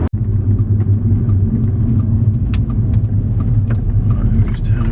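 An Audi S3 8L drives along a road, its steady engine drone and tyre rumble filling the cabin at constant speed, with a brief sharp click at the start.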